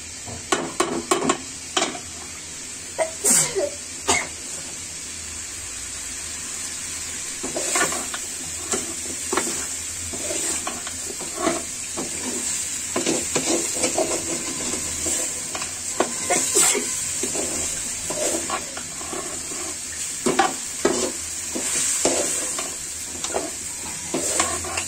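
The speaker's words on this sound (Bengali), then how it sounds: "মাংসগুলো কিন্তু সিদ্ধ হয়ে আসতেছে সাথে কষানো হয়ে যাচ্ছে" Chicken pieces with ground ginger, garlic and spices are stir-fried in a pan, with continuous sizzling and frequent sharp spatula scrapes and clinks against the metal, fairly close and loud.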